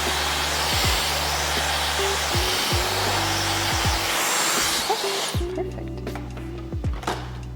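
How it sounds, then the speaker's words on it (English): A salon hair dryer blow-dries hair during a full-head colour treatment, roaring loudly and steadily close by with pitch shifts as it moves, then cutting out near the end, when quieter handling sounds remain. "you don't want to blow dry into it too long"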